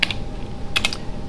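Quick bursts of keystrokes on a computer keyboard while a command is entered, a few short clicky taps separated by pauses, fairly close and soft, with no talking.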